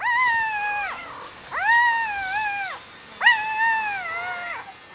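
Drawn-out, wavering animal cries, either a cat's meow or a dog's howl, rise and fall three times in a row, loud and close, each lasting about a second, against a quiet background.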